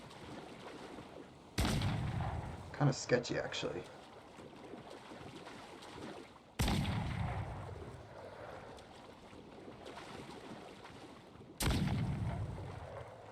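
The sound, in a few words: cannon fire in Assassin's Creed 4 Black Flag video game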